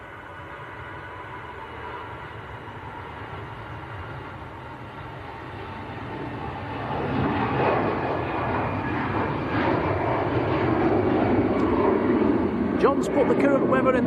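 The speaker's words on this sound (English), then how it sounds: "Aircraft on the roll, not taking full length actually, EasyJet." An EasyJet airliner bound for Amsterdam begins its takeoff roll at Manchester Airport, a low broadband engine roar that builds midway and holds steady at moderate distance, with a commentator's voice running over it.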